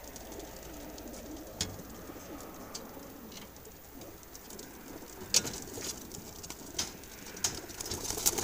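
A flock of about 500 to 600 young racing pigeons coo continuously in a low murmur, with occasional sharp clatters and wing flutters, heard close by.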